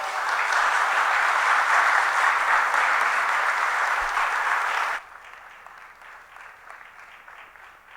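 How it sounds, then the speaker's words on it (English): An audience at a literature festival session gives a sustained, dense round of applause that rises to a broad roar, then drops abruptly to a thinner patter of scattered clapping. "Can we please give them a big round of applause?"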